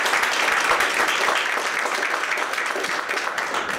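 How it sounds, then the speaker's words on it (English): Warm, steady applause fills a library lecture audience, a dense crowd of clapping hands that holds strong and fades slightly toward the end. "Let's give them a round of applause."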